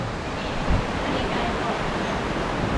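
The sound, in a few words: waterfall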